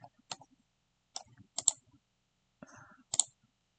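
Several sharp computer mouse clicks while working in Blender, crisp and close, spaced irregularly with short pauses between them.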